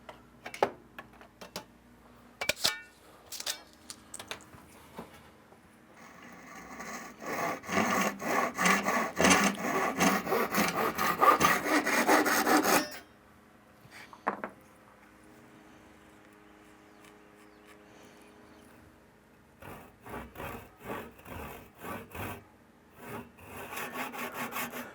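Hand saw cutting a kerf into the top of a wooden axe handle, with scattered rasping strokes at first, then a dense run of steady back-and-forth sawing, and later lighter intermittent strokes; close and fairly loud.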